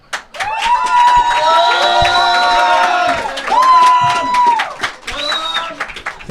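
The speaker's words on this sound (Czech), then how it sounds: "velký potlesk pro Romana!" An audience at a blind-date show claps and cheers loudly for Roman, with whoops and shouts over a sustained burst of applause that dips briefly and swells again.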